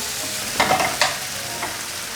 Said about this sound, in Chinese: 现在就继续炒，把水分炒干， 炒至所有味道都融合了